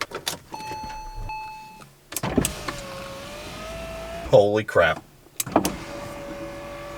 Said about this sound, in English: moved the window up and down yet, but it does work with the door opening and closing